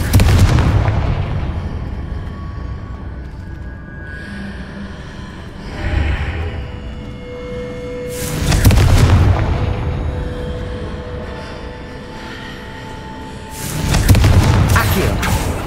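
Confringo fire spells exploding in Hogwarts Legacy: three loud, booming blasts spaced several seconds apart, each with a rumbling tail that fades into quieter game ambience.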